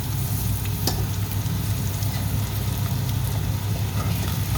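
Chopped onions sautéing with salt in a pan while making a beef dish, giving a steady, close sizzle and frying crackle with occasional stirring, loud and continuous with no talking.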